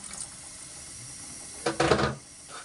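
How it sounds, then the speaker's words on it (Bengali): Broth poured into a pot of duck curry, a short splashing gush that rises suddenly, runs loud for about half a second and then trails off over a steady background hiss. "একটু ঝোল দেব"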